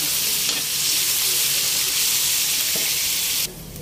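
Loud, dense sizzling of something browning in hot oil in a pan, a continuous close hiss with faint stirring scrapes that drops off abruptly near the end.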